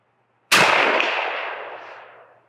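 A single sharp gunshot from a firearm cracks out abruptly and loud, followed by a long decaying echo that rolls away over about two seconds.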